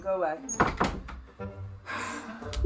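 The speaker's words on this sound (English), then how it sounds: "Let me just close the door." An indoor door is shut in a living room with a solid thunk, amid a person talking to a dog nearby and some shuffling movement.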